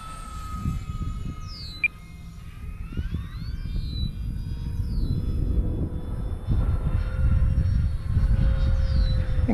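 An E-Flite P-51 Mustang 1.5 m radio-controlled model plane flies past outdoors, its electric motor whining steadily with rising and falling pitch sweeps as it passes, under a constant rumble of wind noise.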